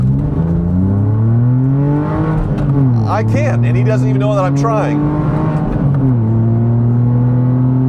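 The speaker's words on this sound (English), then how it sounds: "There is clearly a big hole in the exhaust somewhere, and it makes the whole cabin of this thing vibrate." A Porsche 911 with a big hole in the exhaust drones loudly as it accelerates, engine tone climbing, dipping at a gear change and climbing again, while someone talks over it from inside the vibrating cabin.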